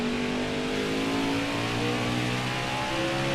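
Truck engine in NASCAR Heat 5 racing at Road America, a steady sustained drone whose pitch climbs slowly as it revs through a gear, loud and close with no talk.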